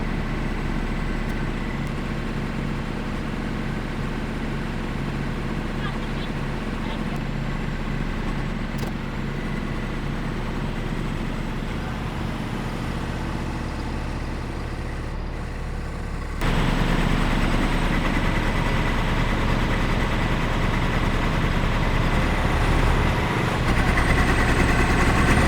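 A Chinese mini excavator's engine runs steadily at close range, a low droning idle that steps up louder and fuller about two-thirds of the way through as the throttle is opened.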